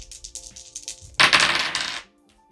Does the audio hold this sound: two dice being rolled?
yes